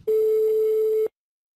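A single steady electronic telephone tone during the dialing of a prank call, sounding alone for about one second at even loudness before cutting off abruptly.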